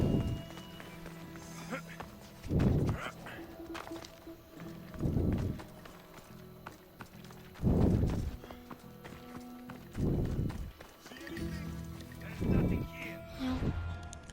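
A horse's hooves clip-clop in the Assassin's Creed video game, coming in separate short bursts of galloping roughly every two to three seconds, each burst several quick thuds, with quieter game sounds filling the gaps.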